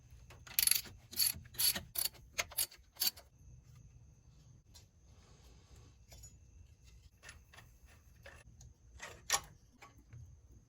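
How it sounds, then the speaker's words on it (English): A ratchet wrench loosening an alternator bolt on a 1960s/70s Ford 302 V8, a burst of quick sharp clicking strokes close up, then quieter scattered clicks and rubbing, with another short click run near the end. "when it comes to removing the alternator, we're going to take this bolt here out"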